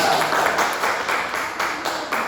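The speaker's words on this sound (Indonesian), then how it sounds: "Tepuk tangan dulu untuk teman-teman." A classroom group claps together in a steady burst of applause, fairly loud and close, with bright broadband patter pulsing throughout.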